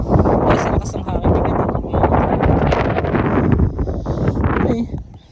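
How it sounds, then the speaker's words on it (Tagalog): Strong wind on a high summit in Cebu buffets the microphone with heavy, gusting rumble throughout, with no clear speech. "Dahil sa lakas ng hangin."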